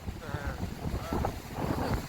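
Strong coastal wind buffeting a handheld microphone in gusty, rumbling bursts, with people's voices partly heard through the roar.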